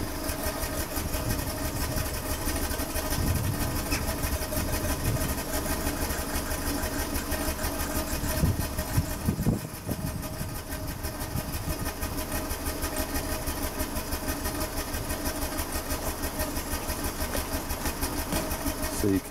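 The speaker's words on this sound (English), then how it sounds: "we've introduced a single cylinder misfire on cylinder number one." Car engine idling with a single-cylinder misfire on cylinder one gives a loud, close, steady chugging idle with an uneven pulsing beat, with one brief louder thump near the middle.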